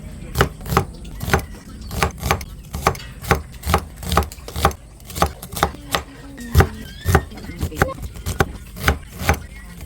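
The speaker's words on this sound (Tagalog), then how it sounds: "maghihiwa na po tayo nitong sibuyas. Sibuyas na puti." A knife chops a white onion on a board for carbonara, a close, loud, steady run of about two dozen sharp thuds at a brisk, even rhythm.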